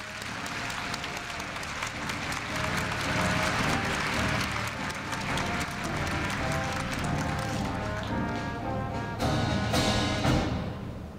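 A large crowd applauds steadily at a university freshman entrance ceremony as a student representative receives a badge, a broad continuous clatter somewhat distant, with a faint musical tone beneath it.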